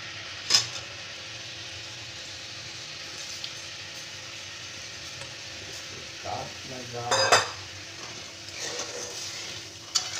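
Tamarind pulp is tipped into a pan for tamarind chutney, giving a low sizzle with a sharp utensil clink at the start and a cluster of scraping and clattering stirs near the end.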